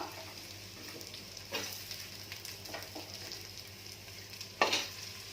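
Chopped onions sautéing in oil with ginger and garlic for a mutton curry, a faint steady sizzle broken by a few soft stirring scrapes, one sharper clatter near the end.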